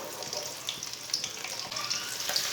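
Finely chopped onion frying in about a cup of oil with whole coriander and cumin seeds, a soft bubbling sizzle with small crackles and pops, fairly quiet and close, no voices.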